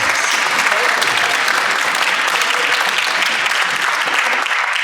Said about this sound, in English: So can we give a round of applause to all of you for supporting that?